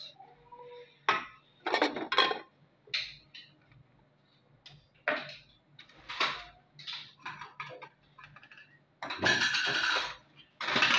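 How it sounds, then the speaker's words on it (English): Moi-moi, the Nigerian steamed bean paste, being placed into a cooking pot, heard as close, quiet clinks and clatters of containers against metal in irregular bursts, with a longer scraping rattle near the end. "I am to put this moi-moi inside this pot."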